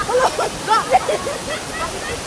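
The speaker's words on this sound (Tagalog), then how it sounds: "Lakas yung tubig." Strong rushing water at a waterfall, a steady broadband roar running throughout, with people talking close by over the water.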